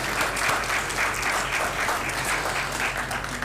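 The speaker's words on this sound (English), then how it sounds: "So clap for her, please." Audience applause at a judicial academy event, steady dense clapping from a large crowd filling the whole stretch at even volume.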